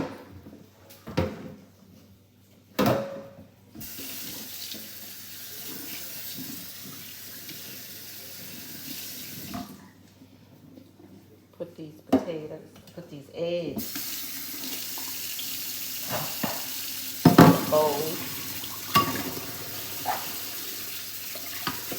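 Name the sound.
cold tap water running over boiled potatoes and eggs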